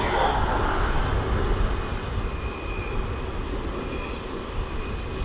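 Aircraft arriving from Delhi taxiing at East Midlands Airport, a sustained engine roar that is loudest at first and then settles into a steady, slightly quieter rumble and whine.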